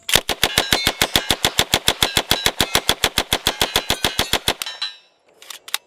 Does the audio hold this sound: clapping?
no